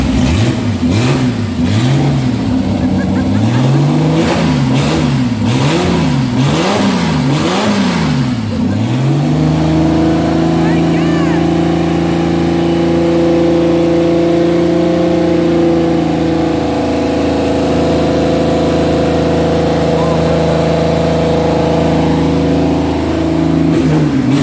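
A small engine on a test stand revs up and down in repeated surges, then settles into a loud, steady running drone.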